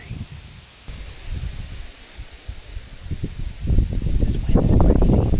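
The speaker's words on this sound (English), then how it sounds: "This wind is crazy." Strong northwest wind roars through trees around a small tree stand during an Illinois bow hunt, a steady rushing and rustling of leaves that swells louder toward the end.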